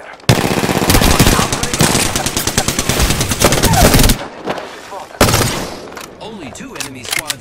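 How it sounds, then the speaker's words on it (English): Rapid automatic gunfire from an Apex Legends firefight, loud and near in sustained bursts, then a short lull and another burst followed by scattered single shots and game sound effects. "Hostile right here. Another squad. I am taking fire."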